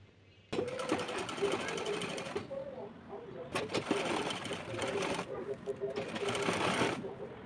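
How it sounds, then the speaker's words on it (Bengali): A sewing machine stitches an abaya sleeve in three bursts of rapid, rattling needle chatter separated by short pauses. The sound is close and moderately loud, with quiet room sound in the gaps. "আমি একেবারে শুধু মাঝখান থেকে অল্প একটু সেলাই করে নিচ্ছি"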